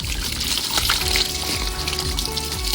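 Water from a hose splashing steadily onto a pony being showered on a very hot day, a continuous close spray and trickle with faint background noise.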